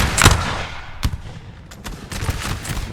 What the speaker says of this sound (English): And they are going to start firing away.